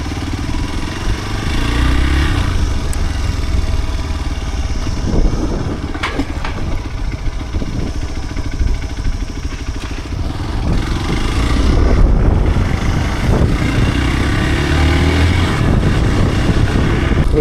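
Motorcycle engine running steadily while riding on a long-distance highway trip, a continuous loud drone with wind rumble that swells slightly toward the end.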